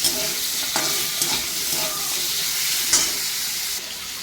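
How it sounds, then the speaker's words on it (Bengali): Chicken pieces frying in a pan give a steady, loud, close sizzle and hiss, with occasional stirring clatter throughout. "চিকেনটা দেখুন আমার ভাজা ভাজা হয়ে গেছে"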